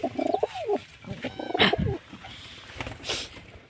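Pigeons coo in soft, throaty bursts close by, with a few fluttering and rustling noises between the calls in a quiet pen or loft.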